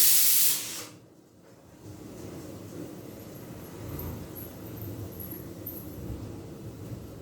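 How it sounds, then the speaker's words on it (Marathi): A pressure cooker's steam whistle lets out a sharp, loud hissing blast at the start that cuts off abruptly, leaving a low, quiet room hum afterward. "कुकरची शिट्टी होते."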